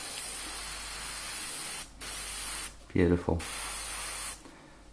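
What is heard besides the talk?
double-action airbrush spraying paint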